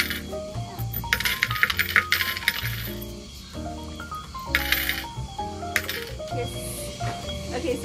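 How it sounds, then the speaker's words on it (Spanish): Coins clink and rattle into a bait vending machine at a self-service fishing pond in a botanical garden, a string of metallic chinks and clacks mixed with background music and chatter. "aquí tengo mis monedas. Las vamos a meter aquí."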